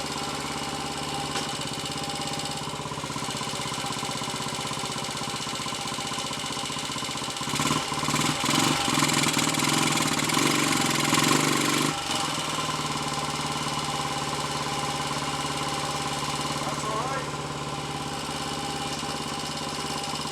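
A Royal Enfield 250 five-speed motorcycle engine runs steadily, with a louder surge midway as it is taken up and down through the gears; the bike has a problem with third gear.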